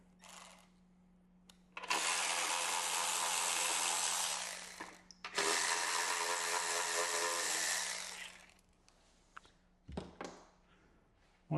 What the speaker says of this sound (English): I'm going to remove these two bolts at the rear of our battery.